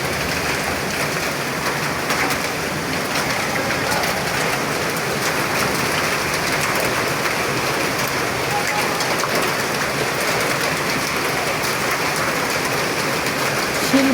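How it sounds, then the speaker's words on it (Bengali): Heavy rain mixed with hail drums on a tin roof at night, a dense, loud, unbroken hiss and patter that holds steady throughout. "টিনের চালে বৃষ্টির শব্দ সুন্দর শোনায়।"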